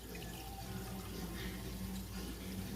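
Hot pasta water pours steadily into a mortar in a home kitchen, a soft continuous liquid splash and trickle lasting a few seconds, quiet and even, with no talking.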